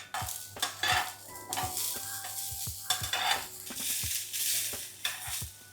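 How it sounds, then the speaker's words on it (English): Vegetables frying in olive oil in a pan while being stirred, a steady sizzle broken by repeated clinks and scrapes of a utensil against the pan, close up with no talk. "I'm just adding a little bit of olive oil to cook the veggies."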